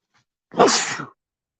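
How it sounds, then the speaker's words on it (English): A single loud, close sneeze, sharp and brief, heard alone with no talk around it. "I'm going to sneeze here."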